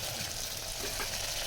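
Tomatoes fry in a hot pan for vegetable pulav, giving a steady, close sizzle with a faint stirring texture, with no talking.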